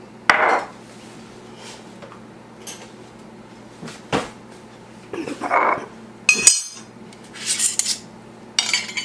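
An opener is handled after plastic containers are vacuum-sealed with a Vac Master 215, giving scattered close clinks, knocks and rattles separated by short quiet gaps.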